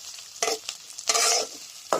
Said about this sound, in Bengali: আমরা এগুলো একটু তেলের উপরে দিয়ে ভেজে নিচ্ছি